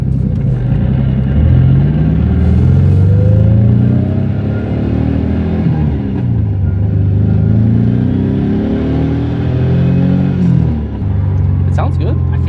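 Engine of a JDM Nissan Gloria while driving, a loud, steady droning rumble that rises and falls with revs, heard from inside the car, with people talking over it.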